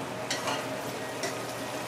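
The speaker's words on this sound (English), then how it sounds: "It's simmering some more." Pumpkin talkari stew simmers in a covered pot, giving a soft, steady bubbling and light sizzling hiss with faint clicks, quiet and close.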